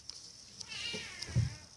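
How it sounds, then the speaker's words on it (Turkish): A short, faint cat meow from Minecraft in a quiet room, with a low bump of handling noise near the end. "bir miyavlama lan. Dur ben şu kedi dışarı çıkarıp geleceğim."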